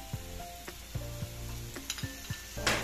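Salt, black pepper and chili flakes sauté in a red arrabbiata pasta sauce, a low simmering sizzle with several soft, spaced spoon scrapes against the pan over a few seconds, ending in a brief louder burst.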